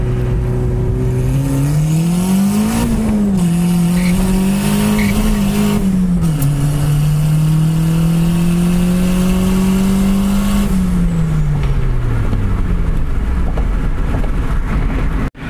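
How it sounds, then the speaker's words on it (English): A turbocharged Honda Civic with a D16 engine on 8 psi of boost pulls hard. The loud engine note climbs steadily through a gear, dips at a shift and rises again, ending with a sudden cutoff. "it actually wants to break the tires just at the top of second gear, so it's pulling pretty healthy up top."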